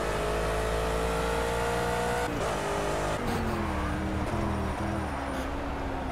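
Gumpert Apollo S race car in Project CARS at the Nürburgring GP circuit, a loud engine drone rising in pitch and broken by a series of quick gear shifts, with no talk.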